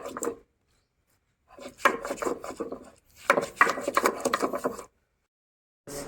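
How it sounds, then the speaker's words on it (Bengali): Ginger ground on a stone grinding slab (shil), heard as close, rough rasping strokes in three short bursts separated by brief silences. "শিলের মধ্যে ভালো করে বেটে নেওয়া হচ্ছে"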